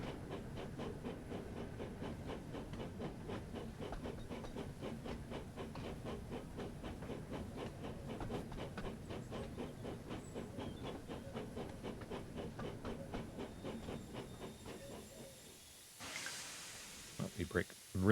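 Steam locomotive James braking in the Thomas & Friends: Wonders of Sodor video game, a steady rhythmic chuffing and hiss running throughout, then a brief burst of release noise near the end.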